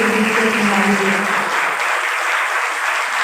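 An indoor audience at an International Women's Day program applauds loudly, a dense burst of clapping that holds steady for a few seconds, with no talk over it.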